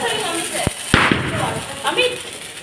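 Firecrackers going off for Diwali: two sharp, loud bangs close together near the start, then a busy, noisy background with some voices.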